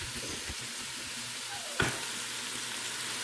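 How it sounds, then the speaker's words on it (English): Garlic, sausage and onions fry in a skillet with a steady, soft sizzle throughout, broken by one brief clatter of a utensil near the middle. "You're going to add this garlic into your skillet with your sausage and your onions"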